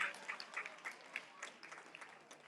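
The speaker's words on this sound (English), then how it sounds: "A big round of applause, ladies and gentlemen." Quiet applause from the audience at a school graduation and anniversary ceremony, a soft patter of scattered hand claps heard from a distance.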